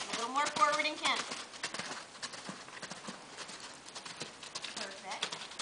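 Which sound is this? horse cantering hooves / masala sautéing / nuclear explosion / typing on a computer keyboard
horse cantering hooves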